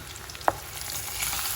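Green chilies frying with onions in a pan on a home stove, a low steady sizzle with one sharp clink of a utensil on the pan early on.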